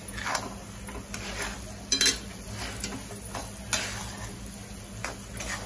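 Dry chana dal is stirred in a pan for sukka zunka, with repeated light scraping and clinking of a spoon against the metal pan in an irregular rhythm.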